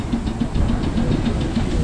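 A large steam engine rumbles past in a steam rally parade at Strumpshaw, giving a loud, close, continuous chuffing with a rhythmic low pulse and steady hiss.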